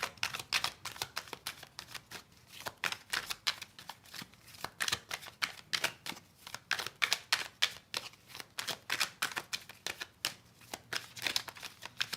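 A deck of tarot cards is shuffled over and over, a rapid papery riffle of crisp flicks in uneven bursts, close and steady with no talking.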